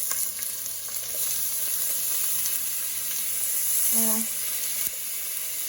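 Minced garlic for beef birria sizzles in a hot pan as a constant, bright frying hiss, with a brief tonal clink partway through and no clear voices.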